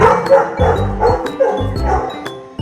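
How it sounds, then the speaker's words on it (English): Several dogs bark repeatedly at close range at a wildlife park, a rhythmic run of loud, sharp yaps and woofs with slight whimpering in between. "And we have 2 more dogs over there."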